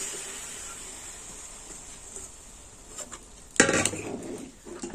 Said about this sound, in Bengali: সেদ্ধ ডাল দিয়ে দিলাম।